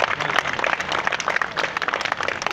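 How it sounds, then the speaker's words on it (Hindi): Steady applause from a crowd at an iftar dinner for municipal employees in Attock, Pakistan, with continuous dense clapping at moderate volume and no voices on top. "इनके लिए भरपूर तालियां।"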